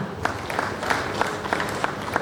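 Sparse, scattered clapping from an audience at an investiture ceremony, a handful of distinct claps in loose rhythm over a murmuring room.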